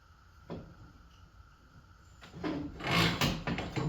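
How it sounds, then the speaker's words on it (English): An old garage door torsion spring slid off its shaft, giving a scraping metallic slide with a clunk near the start and louder rattling scrapes toward the end, close by. "Slide off our old garage door spring."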